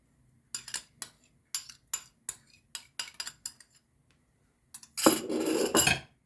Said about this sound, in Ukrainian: Гарно все розмішаю.